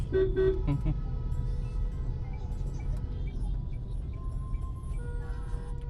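Road traffic on a busy street, with a short double car-horn toot near the start over a steady low rumble of engines, and faint voices in the background.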